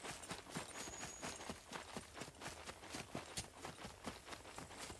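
Horse hooves clip-clop steadily in the SCUM survival video game, a brisk, regular run of close, crisp strikes over a faint background hum.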